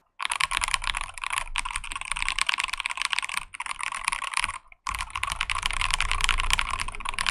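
Rapid typing on a DrunkDeer G75 mechanical keyboard, close and crisp with dense, even keystrokes in bursts, broken by two brief pauses, and no voices.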